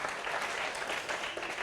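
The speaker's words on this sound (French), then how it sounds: "Applaudissez" Audience clapping steadily through the whole stretch at a French variety show finale, a dense, even wash of hands without pause.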